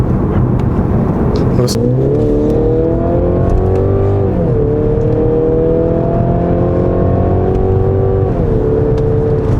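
A Mercedes car engine hums steadily and revs up and down in smooth swells, loud and close throughout, with faint chatter underneath.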